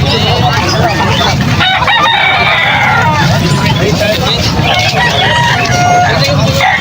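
Henny breed chickens crow and cluck loudly at a busy poultry market, the calls layered over constant crowd chatter and nearby voices.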